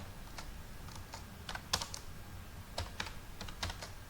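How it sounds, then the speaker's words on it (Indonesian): Typing HTML on a computer keyboard: irregular bursts of light key clicks, close and soft, with short pauses between runs and no talking. "Hanya cukup mengetikkan begini kalau HTML."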